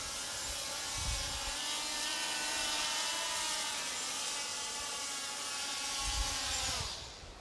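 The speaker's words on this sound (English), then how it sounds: "So that's our level 1 drone." A CyPhy Works level 1 drone hovers nearby, its rotors giving a steady loud whir with a drifting pitch that rises and falls, continuing alone without talk before fading at the end.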